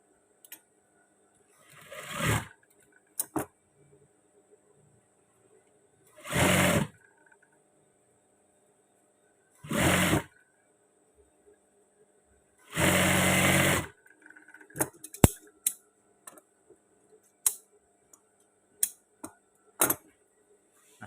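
Sewing machine stitching the thigh seam of long trousers, in several separate short bursts of fast whirring with quiet pauses between, plus faint clicks and handling noises near the end.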